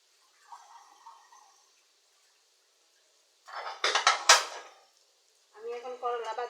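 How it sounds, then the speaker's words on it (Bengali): Fried bitter gourd (karela) tipped into a cooking pan with turmeric: a loud clattering, scraping burst lasting about a second, between a faint earlier rattle and a voice speaking afterwards. "আমি এখন করলা ভাজিটা দিয়ে দিব।"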